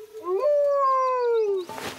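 In a cartoon, a bird imitates a wolf howl: one clear, sustained howl rising and then falling, up close, followed by a brief noisy burst.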